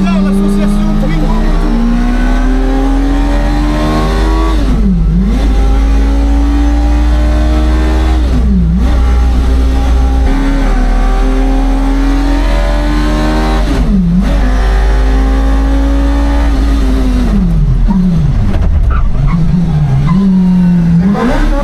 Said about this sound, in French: On est dans une Twingo avec un bruit de moto derrière